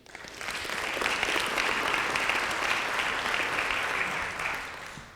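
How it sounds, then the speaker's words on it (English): Sustained applause from an audience at a Plano city council candidate forum held by a county Republican club, building quickly, holding steady for several seconds, then tapering off near the end. "give them a round of applause again"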